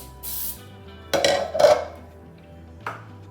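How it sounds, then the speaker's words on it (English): Two or three short hissing sprays of baking spray into a cake pan close by, with a light metallic clink at the end. "I just spray my my baking spray in it"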